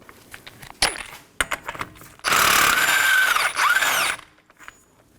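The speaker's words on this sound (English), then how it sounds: "I'm going to remove it using a 32mm socket." On a 2015-2023 Nissan Maxima 3.5L V6, a power tool with a 32mm socket spins off the front axle nut in a loud whirring burst of about two seconds, preceded and followed by clicks and metallic handling.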